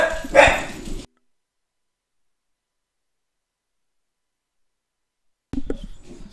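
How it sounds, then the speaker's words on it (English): Dogs bark in a short burst at the start, then the sound cuts to silence before a faint return of barking and whimpering near the end, with no talk over it. "sorry, a little bit of background noise with the dogs"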